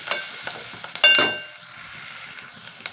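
Onions fry in a pan for a ridge gourd curry, crackling sizzle with sharp stirring scrapes and a brief louder burst of spatter, close and alone without talk.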